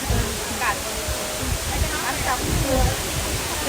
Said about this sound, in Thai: น้ำตกสาดลงมาน่ะเห็นไหมน่ะสวย